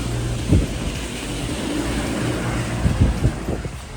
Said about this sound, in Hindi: यहाँ पे बारिश तो हो रही है